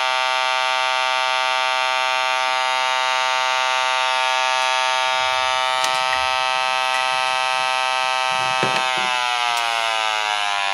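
Sensit HXG-2D gas leak detector alarm sounding as a steady, loud electronic buzzing tone with a rich stack of harmonics, holding continuously and shifting pitch near the end, with no voices.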